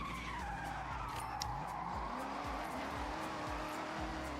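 A supercharged sports car in the Forza Horizon racing game revs and skids, its engine and exhaust note rising and falling while tires squeal steadily throughout a short, constant burst.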